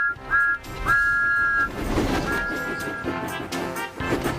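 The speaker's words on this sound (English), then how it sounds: "Everywhere Thomas went, he blew his whistle loudly." An animated steam locomotive, Thomas the Tank Engine, blows its whistle loudly in two short toots and then a longer blast, over music and train sounds.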